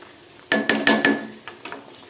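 Sharp metallic clinks of a spoon striking a pan while fish curry gravy is stirred, four quick loud knocks followed by softer scraping taps, close up with no talking.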